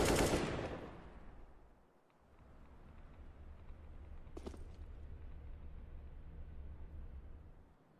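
A Counter-Strike (CSGO) rifle spray during a pro match, heard as a loud opening burst of rapid gunfire that fades, followed by a sharp shot or two over a steady low rumble.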